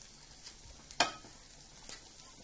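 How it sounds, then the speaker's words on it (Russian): A faint, steady sizzle of sausage frying in a pan, with one sharp crackle or pop standing out near the middle, quiet and close. "Начал жарить колбасу."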